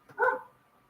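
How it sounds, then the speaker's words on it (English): A single short dog bark from outside in the yard, muffled and somewhat distant, followed by quiet. "barking at something out there in the yard."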